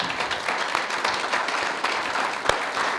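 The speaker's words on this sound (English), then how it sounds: "I would like everybody to just give this man a round of applause" An audience at a basketball symposium gives a round of applause, a steady close-up mass of clapping hands with a few individual sharp claps standing out, continuous throughout and without speech.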